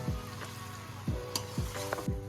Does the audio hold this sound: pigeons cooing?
no